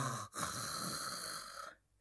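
A man in an animated Japanese folktale gives one long, rasping snore that lasts under two seconds, loud and close, then fades to quiet.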